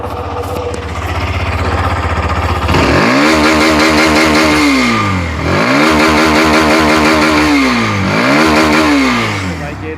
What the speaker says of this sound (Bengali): এটা হচ্ছে বাইকের এক্সজস্টের অরিজিনাল সাউন্ড।